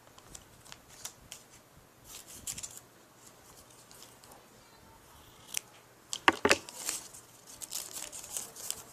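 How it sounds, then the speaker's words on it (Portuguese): Scissors snip through paper while a small notebook for a Barbie doll is being made, a scattered series of short crisp cuts and rustles that ends in a louder burst of snipping, with no speech. "Você vai pegar e você vai cortar assim, olha."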